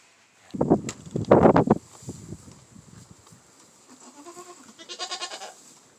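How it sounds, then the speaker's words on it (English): A goat in a snowy barn gives loud nearby bleats in the first seconds, then a softer wavering bleat near the end, with rustling in between. "She's a good goat."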